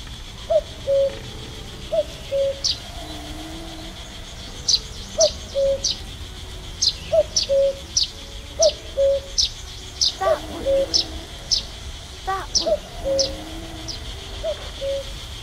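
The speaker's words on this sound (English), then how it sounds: "A cuckoo." Cuckoo calls from the video game The Night of the Rabbit repeat in a steady two-note pattern, joined by chirps and other bird calls over a soft ambient background, with no talk.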